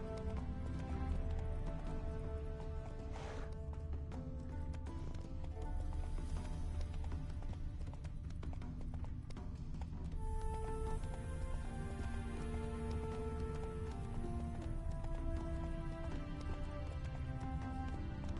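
Hooves of the horse Roach galloping in The Witcher 3, a steady rapid clip-clop rhythm throughout under a faint background game score.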